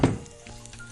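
Crushed ginger and garlic hit hot oil in a pan, giving a sharp burst of sizzling at the start that settles into a softer, steady fry.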